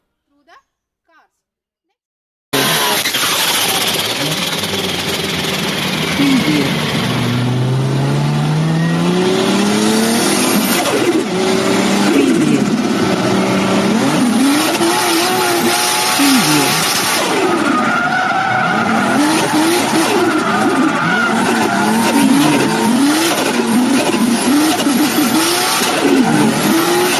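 Cars accelerate with revving engines and squealing, skidding tyres, a loud continuous roar with rising and falling engine pitch that starts abruptly after a near-silent opening, with a voice speaking through it.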